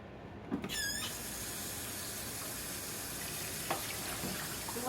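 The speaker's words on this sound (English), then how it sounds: "I'm gonna rinse this bowl out." Kitchen tap running steadily into a bowl as it is rinsed out, a continuous close water hiss with a brief squeak near the start and small splashes, no talking.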